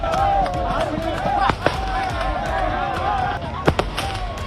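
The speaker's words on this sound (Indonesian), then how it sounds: "Warga mengusir kawanan gajah itu dengan meletuskan petasan" Sharp firecracker pops go off a few times, set off by villagers in Lampung to drive away a herd of elephants, cracking out over a busy crowd of voices and background noise.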